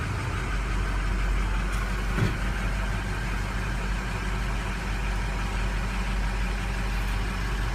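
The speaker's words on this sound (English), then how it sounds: "I'm gonna go ahead and fire it up right now" A flatbed truck's diesel engine idles steadily, a loud, low rumbling drone close by with no talking.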